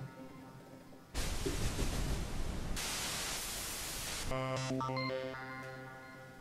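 A Dave Smith Pro 2 synthesizer jumps from a quiet tone into loud broadband noise from its noise oscillator, holds the hiss for a few seconds, then shifts into a buzzy, harmonic-rich tone.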